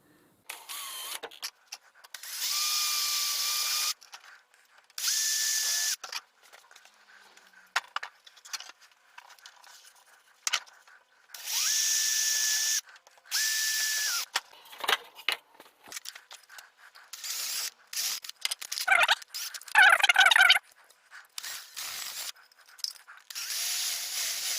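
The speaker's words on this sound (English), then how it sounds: "So I'm just going to drill some new holes." A power drill bores new holes in a 3D-printed gutter, sounding in several separate whining bursts of a few seconds each with pauses between, fairly close and loud, with no talking.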